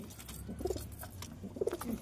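A pigeon kept in a loft where the birds are in poor health gives two soft, low coos close by against a quiet background.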